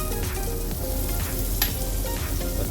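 Butter sizzles and fries steadily in a hot kadhai for butter chicken, a continuous close, dense crackle with small pops and no talking.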